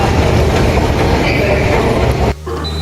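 A metro train at Sitabuldi metro station in Nagpur rumbles past with a loud, dense roar that cuts off abruptly near the end and leaves a lower hum.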